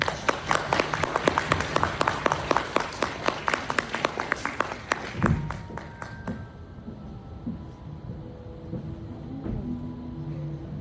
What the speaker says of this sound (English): Let's give her a thunderous round of applause.